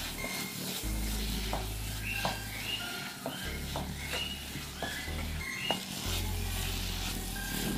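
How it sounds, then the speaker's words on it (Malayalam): Bitter gourd sizzling in a pan with turmeric and chili powder as it is stirred, a continuous close frying hiss with regular scraping strokes and light taps, no voices. "എല്ലാം കൂടെ നന്നായിട്ടൊന്ന് മിക്സ് ചെയ്യാം."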